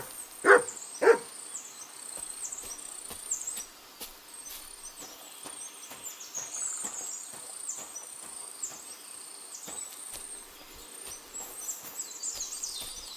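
A dog named Mutt in the video game Kingdom Come: Deliverance 2 gives two sharp, close barks early, then soft ambient crickets and insects chirp quietly in the background.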